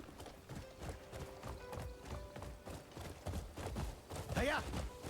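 Rhythmic horse hooves clip-clop steadily in the video game Crimson Desert, close and continuous, with a brief whinny near the end.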